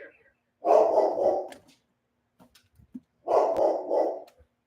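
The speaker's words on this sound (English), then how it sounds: "Is he barking at you?" A dog barks twice, each a drawn-out, harsh burst about two seconds apart, close by, with a few faint clicks between.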